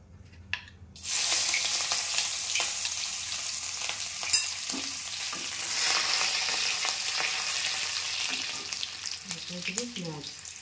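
Chopped garlic sizzles loudly in hot oil for chilli soybean, a steady broadband frying hiss that starts abruptly after a faint opening, with a few utensil clicks and brief stirring scrapes near the end.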